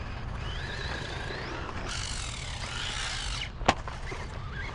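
A Rlaarlo ROG1 Gladiator 1/14-scale RC monster truck whines as its electric motor revs up and down, sustained and fairly close, ending in a sharp clack.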